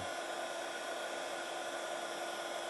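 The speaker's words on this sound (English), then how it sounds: "take our heat tool, just like this, and bring it to temperature." A craft heat tool blows hot air in a steady, unbroken whoosh of rushing air, close to the microphone and even in level throughout, with no voices.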